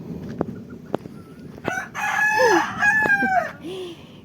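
A rooster crows nearby in a long, wavering call in the rural Philippine countryside, preceded by a few sharp knocks and clucks, with faint background noise.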